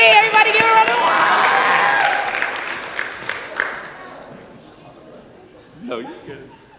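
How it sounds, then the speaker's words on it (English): A rally crowd applauds and cheers loudly at first, then the clapping thins and fades into scattered claps and murmuring, with a brief burst of voices near the end. "everybody give her a round of applause"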